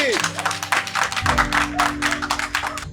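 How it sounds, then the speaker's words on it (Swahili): A small group claps for an announced winner in a short burst of brisk, uneven hand claps, with talking and background music running beneath. "Makofi tafadhali."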